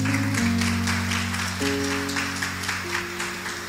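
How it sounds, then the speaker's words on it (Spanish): A crowd claps steadily and enthusiastically at a women's church gathering while music plays underneath, the applause filling the room. "Vamos a darle un fuerte aplauso al Señor esta tarde."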